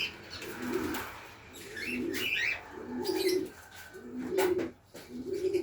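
Breeder pigeons coo in a nesting block, a series of low, rhythmic hoots repeating steadily, with higher chirps from lovebirds and faint wing flutters mixed in nearby.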